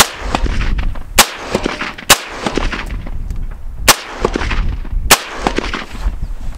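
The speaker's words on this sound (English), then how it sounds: "So we had a total of 10 rounds fired at this, double plate, about a half inch thick." SKS rifle shots striking a homemade steel armour plate of double thickness, about half an inch: four sharp, loud cracks spaced irregularly over constant outdoor rumble and wind noise.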